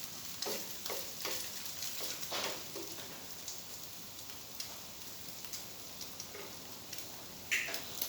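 Stirring and mixing in a frying pan, a steady faint crackling sizzle with soft scraping strokes and a brief clink near the end, quiet and close.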